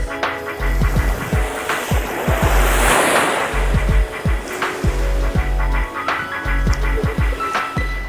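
Sea waves at Malpe sea beach wash in as a continuous roar of surf, swelling into a louder broadband surge in the middle, with wind and a low rumble beneath.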